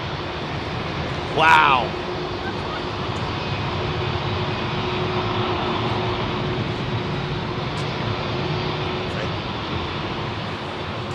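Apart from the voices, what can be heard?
airplane landing at London Heathrow Airport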